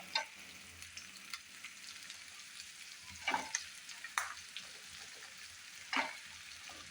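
Low, steady sizzle of chopped vegetables sautéing in a pan for bisi bele bath, punctuated by a few sharp scrapes and clinks from stirring.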